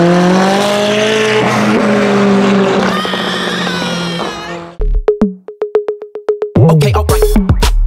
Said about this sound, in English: that's how AMG is supposed to sound like